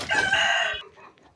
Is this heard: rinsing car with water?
no